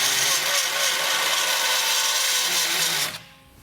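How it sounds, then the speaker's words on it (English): A burr bit grinds steadily into the frame of a 2020 Jeep Gladiator, enlarging a bolt hole with a loud, continuous high rasp that stops abruptly after about three seconds. "we'll be using a burr bit here, and we just need to enlarge this hole so we can pass our bolt through"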